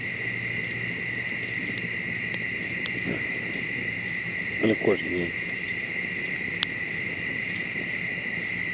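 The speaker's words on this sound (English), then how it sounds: "all you can hear now is the bugs, the crickets" Crickets chirp in a continuous high steady drone at night by Lake Saketah, with scattered insect clicks and a few low thumps, while a person speaks briefly in the middle.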